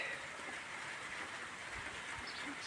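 Cold summer rain falls outdoors in a Ukrainian countryside setting, a continuous even hiss of drops hitting surfaces, moderately distant with no voices.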